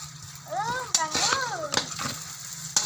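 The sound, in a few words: garlic frying in a pan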